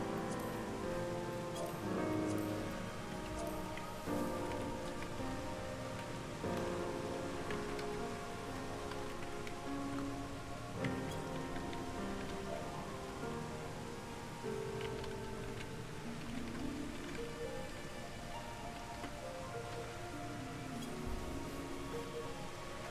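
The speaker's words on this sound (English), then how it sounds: "I want to look at a little picture because it's raining outside." Steady rainfall in a video game, a continuous patter of drops with faint ticking, heard under game music and sounds and lasting throughout without talk.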